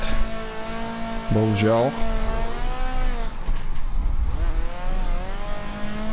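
A 450 BHP Nissan 200SX drifts in Assetto Corsa: a buzzing engine rises and falls with revs while tyres squeal, and someone talks over the car throughout.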